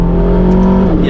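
An Aston Martin DBX 707 SUV accelerates hard out of a corner, with a loud, close engine roar climbing steadily over about a second.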